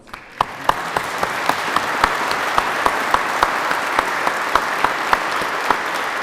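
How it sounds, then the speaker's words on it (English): A crowd applauds at a Newark Fire Division public safety award ceremony honoring a recovering firefighter, sustained clapping with a few sharp nearby claps standing out against the dense wash. "You guys can applaud."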